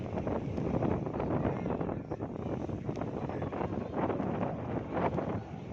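Strong wind blows hard across the mic at a beach on the Java coast, a loud continuous roar and buffet with gusty swells and no voices.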